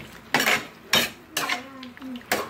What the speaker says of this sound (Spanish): le vamos a echar aquí al sartén para que se frían también